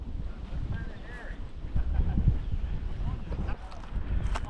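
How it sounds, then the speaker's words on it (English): Strong wind buffeting the microphone at the top of a tall ham radio antenna tower, a rough low rumble rising and falling throughout with faint voices underneath. "the wind is blowing like crazy"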